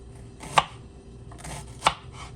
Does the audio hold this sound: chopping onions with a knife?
yes